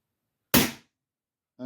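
A Smith & Wesson 78G .22 CO2 target air pistol fires a single sharp, close pop that decays quickly, with silence before it and a brief sound starting again near the end.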